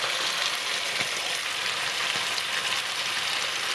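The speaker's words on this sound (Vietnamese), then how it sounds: "Nhớ là mình sẽ chiên cho đến khi mình thấy nó vàng luôn cái phần da nha" Chicken thighs sizzle steadily in butter in a hot pan, a dense continuous crackle with occasional pops, close up and alone.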